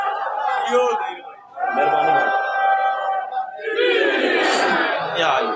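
A crowd at a religious gathering celebrating Jashan-e-Shujah in Lahore chants a slogan in loud unison, rising and falling in waves of massed voices, with a leader's voice also audible.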